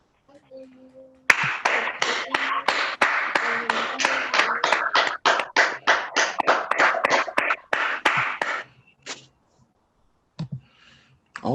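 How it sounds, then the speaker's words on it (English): Graduation audience for a masonry training program applauding, a loud burst of dense clapping that starts abruptly and runs about seven seconds before thinning out to scattered claps and fading. "Let's give another round of applause to Mr."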